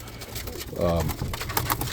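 A roller pigeon coos briefly in the middle, a low throaty warble set against steady background noise and faint voices.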